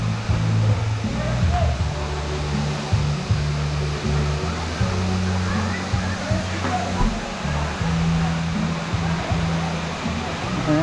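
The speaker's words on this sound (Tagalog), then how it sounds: "Simple lang na ilog." River water at Balete Falls rushing in a continuous broad roar, loud and steady throughout, with faint low voices of people mixed underneath.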